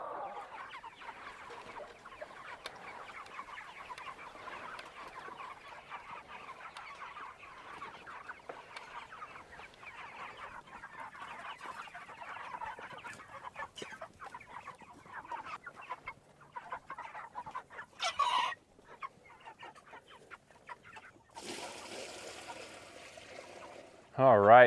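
Cornish cross meat chickens clucking and murmuring steadily in a flock, a continuous soft chorus at moderate distance with a few louder bursts near the end.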